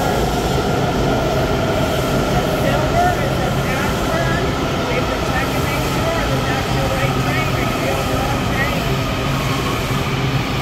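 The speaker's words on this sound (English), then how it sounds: "These trains are coming." A Washington, DC metro train rumbles close by, arriving at a station, with a continuous heavy roar and intermittent metallic wheel squeals, while voices murmur in the background.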